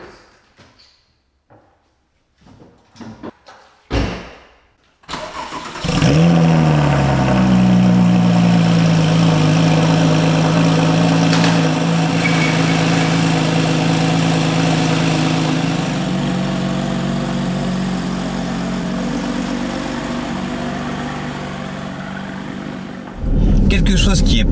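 Porsche 997 GT3 RS engine idling steadily after a few short clicks and knocks, a loud, continuous low rumble with a faint mechanical rattle from the clutch release bearing.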